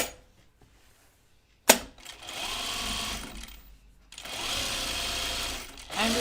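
A domestic sewing machine stitches fabric in two sustained, close and fairly loud runs separated by short pauses, beginning with a sharp click, while a person speaks between the stitching.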